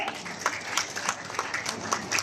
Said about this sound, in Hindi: तालियां आपकी तरफ से जरूर हो।